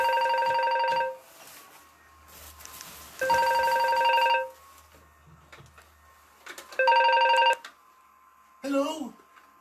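A telephone rings in three separate bursts of a bright electronic trill, each about a second long and spaced a couple of seconds apart, with a short squeak at the end and quiet gaps between.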